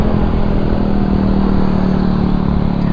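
A Yamaha Mio i 125 scooter and a Honda ADV 150 pull away on a night group ride in Marilaque, engines droning loud and steady with a sustained low hum and clattering rumble, no talking.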